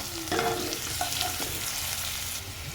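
Chopped onion dropped into hot oil with a spice tempering and ginger, a close, bright sizzle with a few stirring scrapes and bumps, continuous and without speech.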